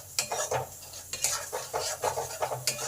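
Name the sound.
stirring and sautéing turmeric, chili and cumin spices in pan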